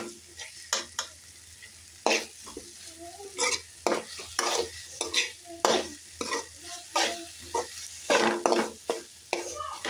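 Masala for bitter gourd sizzling in a kadai, stirred with repeated sharp scraping strokes in an irregular rhythm over continuous frying hiss, loud and close with no speech.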